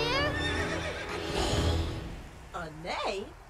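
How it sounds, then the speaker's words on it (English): In the fantasy video game Tiny Tina's Wonderlands, a horse whinnies with a rising and falling, quavering neigh over game sound effects, following a character's line and with a speaking voice layered over part of it. "A neigh?"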